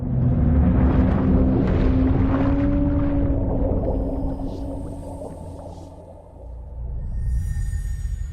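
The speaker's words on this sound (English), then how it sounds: "It's on the beach, so it has all the beached whales, and the waves lapping on the shore make it hauntingly beautiful." Beached whales call in long, low, sliding moans on a beach in the Death Stranding main menu, a video game, over a deep wash of lapping waves that swells again at the end.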